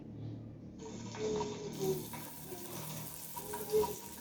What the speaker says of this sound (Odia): ଭଲ ଭାବରେ ଭାଜି ହେବା ପାଇଁ ଛାଡ଼ିଦେବା।